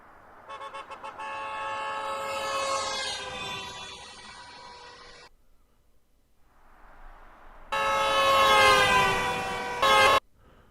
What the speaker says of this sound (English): I kind of want like a car drive-by horn sound effect